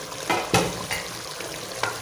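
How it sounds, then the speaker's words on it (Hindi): Goat mutton korma frying in a pot, a steady close sizzle broken by several scraping stirs of a spoon against the metal, no voices. "ये फ्राई हो चुका है"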